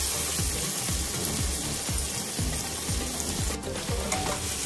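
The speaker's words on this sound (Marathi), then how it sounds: "थोडंसं आपण जिरं घालू आणि कांदे घालू याच्यामध्ये" Cumin and chopped onions fry in a pan for pav bhaji, a steady close sizzle broken by a rhythmic series of spatula scrapes against the pan, with no talking.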